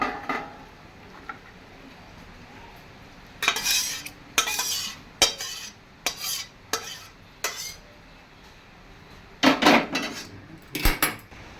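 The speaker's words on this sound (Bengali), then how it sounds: "ডাল আর সজনা শাকটা যে ভেজে দিলাম, এবার আমি ঢেলে নিচ্ছি।" Boiled mung dal with fried drumstick leaves is poured out of a pot in a home kitchen, giving a series of sharp metal clanks and scrapes that come in irregular bursts against a quiet background.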